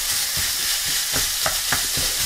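About 350 grams of minced meat sears in a hot pan with a steady, loud sizzle, broken by a few soft scrapes and clicks as it is stirred.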